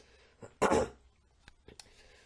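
A single loud, harsh cough bursts out close by, followed by a couple of faint clicks and small sounds in an otherwise quiet room.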